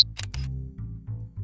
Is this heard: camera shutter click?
yes